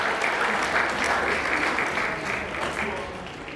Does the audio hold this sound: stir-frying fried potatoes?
no